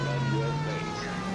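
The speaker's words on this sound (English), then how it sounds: "Turn the goddamn siren on." An emergency vehicle siren wails steadily and fairly loud, with engine or road noise beneath it and no clear talk.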